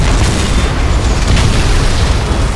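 Explosive barrels burst in the video game Call of Duty: World at War, a loud, dense, rumbling boom that fills the whole moment with no voices.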